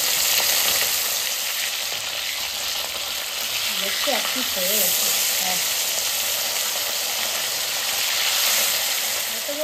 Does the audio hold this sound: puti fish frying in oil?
yes